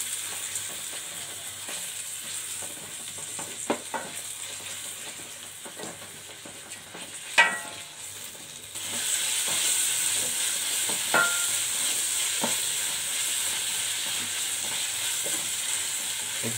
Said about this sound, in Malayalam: എന്നിട്ട് നമുക്ക് നന്നായിട്ടൊന്ന് മിക്സ് ചെയ്തെടുക്കാം